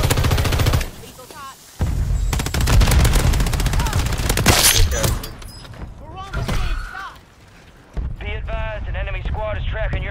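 Video game gunfire with rapid automatic bursts and loud single shots, close and dense, while a player talks excitedly over the shooting.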